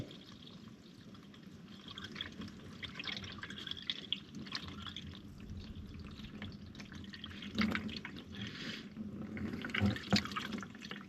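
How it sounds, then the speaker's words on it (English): Water drips and trickles from the air-cooled engine of a 1983 VW T25 camper, a faint, steady patter with a few slightly louder splashes over a low background hum. "I fear my engine is full of water."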